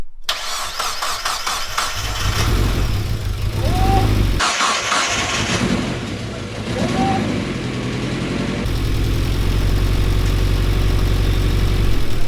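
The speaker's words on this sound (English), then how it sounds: "Look, the turbo's finally spinning." A turbocharged Mazda MX-5 Miata engine runs loudly and steadily close by, with a rising turbo whine at moments and people talking over the rumble.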